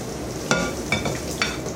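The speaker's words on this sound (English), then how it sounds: "Rinse the dish off." Water splashes over a dish being rinsed in a kitchen sink, a close, continuous hiss broken by three sharp clinks of dishware.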